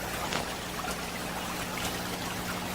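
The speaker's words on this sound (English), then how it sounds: "we've got water coming down nicely" In an aquaponics greenhouse, water trickles and splashes down into a fish tank, a close, steady stream broken by occasional brighter drips.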